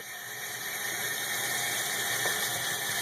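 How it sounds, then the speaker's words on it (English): Hot water pouring from a tap in a sink as an art brush is rinsed, a steady broadband hiss that holds at an even level for a few seconds with no talking. "You turn on the hot water."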